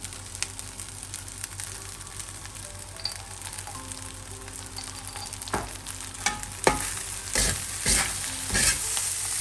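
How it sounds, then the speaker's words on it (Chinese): Glutinous rice that has been soaked and seasoned with a little salt is stir-fried in a wok. A steady sizzle builds into loud, repeated scraping strokes of the spatula near the end, heard close up with no talking. "稍微炒一下就可以起锅了"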